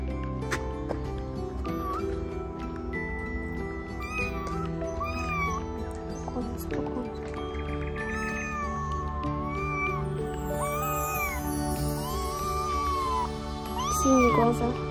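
A kitten mews repeatedly in short, high-pitched calls, nearby and persistent, over a constant low background hum with occasional faint voices.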